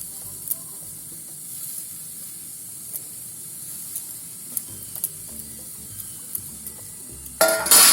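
Grated coconut being stirred into melting sugar in a pan for palm-fruit pitha filling, a soft steady sizzle with faint scraping stirs and small clicks, ending in a brief louder burst of hiss.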